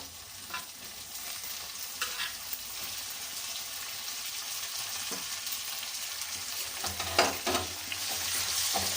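Tomato fries in oil in a pan with potato and browned peanuts, giving a steady close sizzle broken by the occasional scrape and clatter of stirring.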